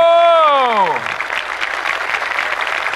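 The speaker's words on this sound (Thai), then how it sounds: "กรี๊ดกันให้เต็มที่เชียร์กันให้เต็มที่" An audience at a live Thai singing competition show breaks into a steady wash of applause and cheering that rises as a sung note fades out and then holds loud and continuous.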